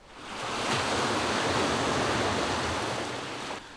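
Wind-driven swell breaks on Lake Tanganyika in Burundi, a steady, full roar of surf that holds strong throughout with no voices.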